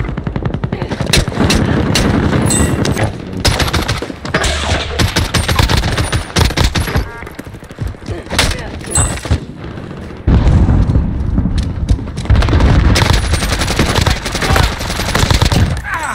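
Heavy Call of Duty gunfight: loud, dense automatic fire and sharp shots crackle almost nonstop, with booming impacts and brief pauses between bursts.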